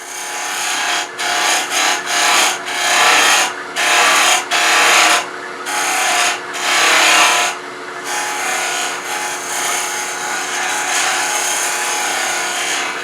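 Carbide woodturning tool cutting wood on a lathe, a loud raspy scraping in repeated bursts with brief pauses, then a longer continuous cut.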